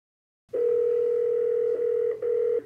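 A telephone dial tone at the start of a phone call: a steady, clear electronic tone after a short silence, briefly dipping once before it continues, with no talk over it.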